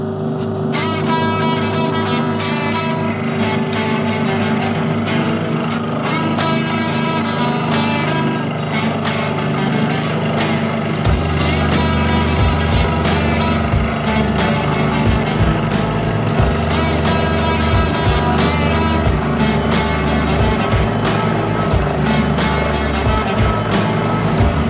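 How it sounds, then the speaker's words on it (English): A scroll saw cuts wood pieces for an intarsia project, a loud steady buzzing motor drone with a rapid reciprocating blade rattle running continuously and close. "So I'll start off on the scroll saw now."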